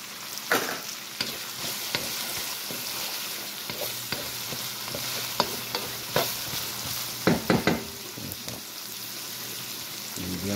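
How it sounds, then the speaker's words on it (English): Carrots frying in about three tablespoons of olive oil in a pan, with a steady loud sizzle and occasional clatter from stirring throughout. "about 3 tablespoons of olive oil. I'm going to add my carrots."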